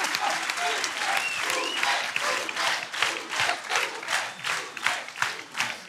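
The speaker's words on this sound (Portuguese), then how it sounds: "Um aplauso para o capitão Ruínas." A television studio audience applauds on a music quiz show, loud dense clapping that thins into separate claps toward the end.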